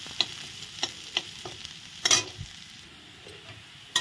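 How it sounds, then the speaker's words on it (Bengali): Onions frying in hot oil and being stirred until brown, with a steady sizzle under repeated sharp scrapes of a spatula against the pan; no talking. "পেঁয়াজটা দেখো এরকম ভাজা হয়ে গেছে, একদম ব্রাউন কালার করে ভেজে নিয়েছি।"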